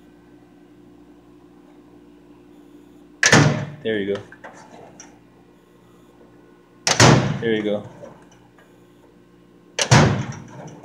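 Drawers of a Husky limited edition tool chest slide shut three times, each a sharp close followed by rattling settle, loud and near, with a person speaking briefly between them.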